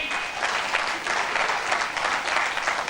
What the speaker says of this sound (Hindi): लेना चाहेंगे तालियां बजा दो